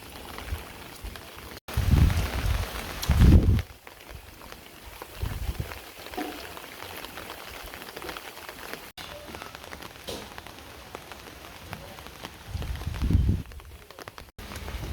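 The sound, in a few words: heavy rain falling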